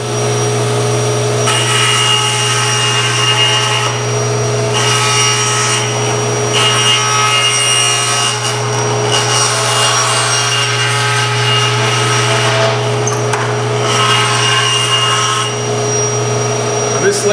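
A table saw cutting into a wooden seat blank for seat carving, steady motor hum under repeated close, loud passes of the blade through wood, with brief pauses between cuts.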